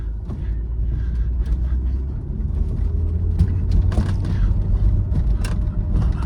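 An early-2000s BMW car in second gear produces a low, rumbling engine note under steady road and cabin noise, with faint rattles and knocks over several seconds.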